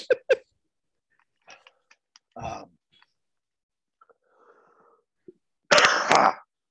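During a podcast conversation, a man clears his throat and coughs, apparently from a cold. Short, close, throaty bursts are separated by near silence, and the sequence ends with a louder, longer, rasping cough.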